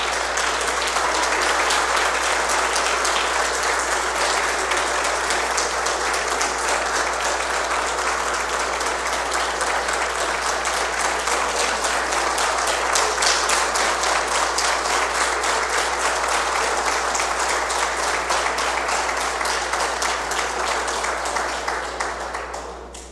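Sustained applause from the audience at a municipal council's ordinary session, dense steady clapping that fills the room for over twenty seconds at an even, loud level before easing off at the very end.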